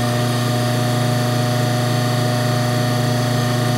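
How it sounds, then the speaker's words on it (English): An industrial pump and its drive run up to speed and settle into a loud, steady electric whine with a constant low hum beneath, unbroken from start to finish. "turn on the drive, turn on the pump, let it come up to speed"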